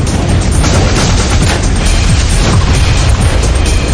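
A massive explosion on the Piper Alpha offshore oil platform in the North Sea roars as a dense, continuous broadband blast and rumble, very loud and unbroken throughout.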